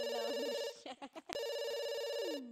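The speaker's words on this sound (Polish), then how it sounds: "Jeszcze telefon dzwoni." A telephone in The Sims 2 rings with a loud electronic trilling tone that starts, breaks off briefly for a few short in-game sounds, then resumes and fades out at the end.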